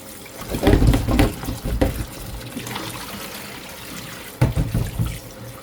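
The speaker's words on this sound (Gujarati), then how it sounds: "મસ્ત મજાના ભીંડાને છે ને આવી રીતના ઘસીને ધોઈ કાઢવાના" Fresh okra, about 6.5 kg, washed by hand in water, with splashing and rubbing in two bursts near the start and again toward the end, and quieter trickling in between.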